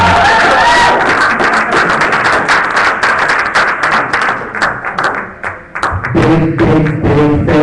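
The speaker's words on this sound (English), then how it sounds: "another big round of applause for this year's team" A poetry slam audience claps loudly in sustained applause, a dense close wash of hand claps that eases briefly then swells again, with a few cheers and voices mixed in.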